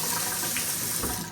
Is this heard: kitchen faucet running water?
yes